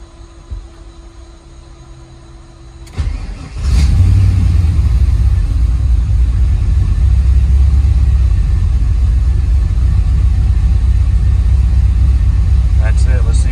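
A car engine fitted with a cheap Chinese throttle body, unmodified tune, starts up after a few quiet seconds and settles into a loud, steady, deep idle rumble that continues to the end.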